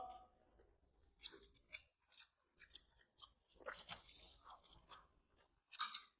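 Close, wet chewing and mouth sounds while soft homemade idli is eaten during a South Indian food eating challenge, irregular clusters of smacking and munching with short pauses between bites and no talking.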